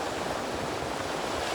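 Waves at Rock Beach in Pondicherry, a continuous broad wash of surf with wind noise, steady and moderately loud, no voices.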